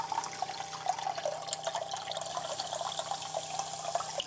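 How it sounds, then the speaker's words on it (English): Water runs and splashes steadily through a Flour Gold Wizard cleanup sluice during gold prospecting, a continuous close trickle with small drip-like spatters and no voices. "I'm gonna be using my Flour Gold Wizard cleanup sluice"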